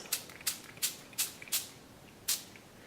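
LSG Starburst spray bottles misting colour onto crinkled craft paper in six short, sharp hissing bursts, spaced roughly evenly with a gap before the last, close and alone.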